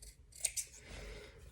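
Scissors snip two quick close cuts through fabric corners on a sewn mask pouch, crisp and brief against a quiet room.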